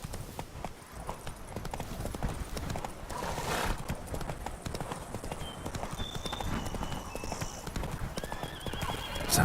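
Roach the horse galloping in The Witcher 3, with rapid rhythmic hoofbeats throughout and whinnies, a voice briefly speaking over the running.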